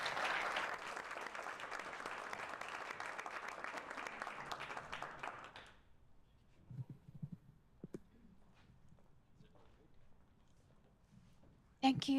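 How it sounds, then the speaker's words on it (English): Meetup audience applauding a speaker at a deep learning event, loud broadband clapping for about six seconds that stops abruptly, followed by quiet room noise with faint shuffling and murmurs. "please give a round of applause for Yinxi."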